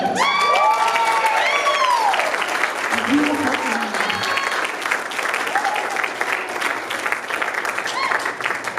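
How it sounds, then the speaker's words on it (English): Wedding guests applaud steadily and loudly in a reception hall, with cheers and voices rising over the clapping throughout. "Let's clap."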